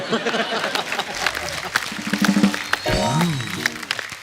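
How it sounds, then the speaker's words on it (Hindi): Studio audience applause on The Kapil Sharma Show, a steady clatter of clapping mixed with a crowd and a short musical sting. "तालियां"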